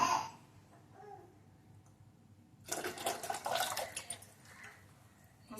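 Water is squeezed out of cooled paneer by hand, a quiet drip giving way to a sudden splashing trickle that runs for a second or so, then thins out.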